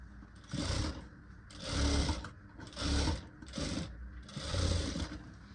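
Sewing machine stitching a blouse seam, running in four or five bursts of rapid mechanical whirring separated by short pauses, close and clear with no talking.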